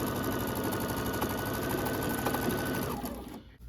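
A sewing machine stitching a rag quilt runs in a fast, steady mechanical whir with a constant motor hum, close and loud, then slows and stops near the end.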